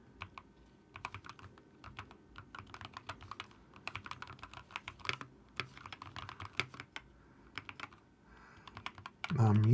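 A Keychron K2 HE keyboard being typed on up close, bursts of quick crisp keystrokes with short pauses between, fairly quiet, ending in a louder thump.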